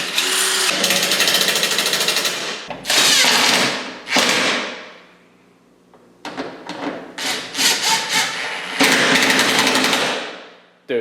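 A power drill fitted with a Super ATV bit bores into the fender area of a 2024 Polaris RZR XP 1000, loud whirring bursts of a few seconds each separated by pauses.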